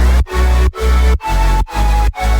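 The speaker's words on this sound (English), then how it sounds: "That's like the basic saw layers, which sounds like this." Layered basic saw synth in a music production, a dense, buzzing sustained chord pulsing in five rhythmic bursts with short gated gaps between them, loud and alone.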